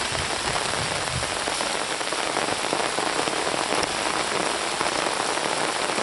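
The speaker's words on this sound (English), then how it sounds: "it's just a light rain. It's not really heavy torrential yet." Steady light rain patters continuously on surfaces nearby at a lakeside overnight hammock camp, a soft even hiss with no talking.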